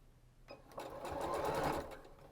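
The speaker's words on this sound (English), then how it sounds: "you're just going to try to stitch about 1/8 of an inch on the fabric. And you do want to back stitch." A sewing machine stitches a small piece of fabric for a key fob, its fast, steady whir building over about two seconds, close and clear with no talking.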